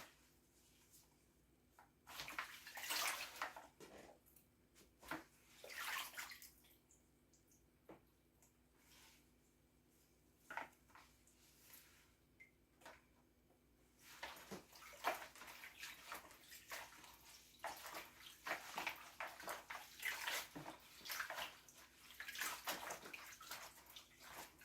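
Freshly cut garden weed greens washed by hand in a basin of water, with repeated sloshing and splashing bursts, a quieter pause midway, then steady continuous swishing toward the end, close and moderately loud.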